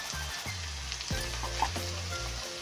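Drumstick leaves frying in a pan for an egg curry, a steady close sizzle with soft stirring scrapes at intervals and no talking.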